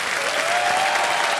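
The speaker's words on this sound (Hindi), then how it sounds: "जोरदार तालियां बज जाए इनके लिए" Studio audience on the Hindi quiz show Kaun Banega Crorepati breaks into loud, continuous applause for a contestant from Gujarat, a brief dense wash of clapping with a faint tonal sound running through it.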